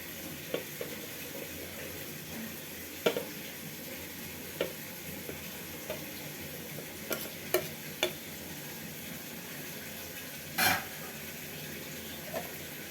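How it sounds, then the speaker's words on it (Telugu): Potato and boiled egg curry in tomato gravy being stirred slowly in a pan, Telangana style, with soft scraping and wet spoon clicks over a low simmering sizzle and one louder clack near the end. "ఇది ఒకసారి స్లోగా కలబెట్టుకుందాం, లేకపోతే ఆలు అంతా చిక్ అయిపోతుంది."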